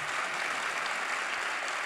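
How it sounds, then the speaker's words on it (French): Dense, steady applause from a theatre audience at a science-communication contest final, an even wash of many hands clapping at close range throughout, with no pauses. "Donc je voudrais que vous les applaudissiez tous."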